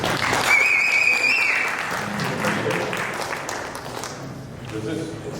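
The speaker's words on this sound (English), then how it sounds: "let's give James a nice round of applause here" An audience gives a round of applause for a guest speaker at a talk on blockchain and cryptocurrencies, dense clapping that slowly fades while a voice speaks over it.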